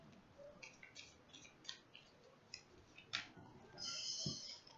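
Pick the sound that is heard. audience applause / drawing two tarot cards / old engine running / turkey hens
drawing two tarot cards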